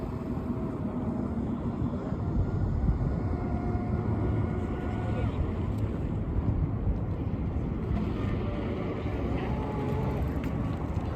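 Wind buffeting on a Blackjack 24 boat running through choppy water, a loud continuous low rumble and roar with engine drone throughout, close and steady.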